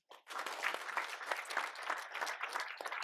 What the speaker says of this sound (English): If I can get a round of applause for Invest Vancouver